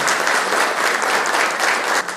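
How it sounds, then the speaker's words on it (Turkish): Sustained applause from an assembled council chamber audience, a dense even wash of many hands clapping at steady loudness, easing slightly near the end. "Şöyle bir alkışlayalım arkadaşlar"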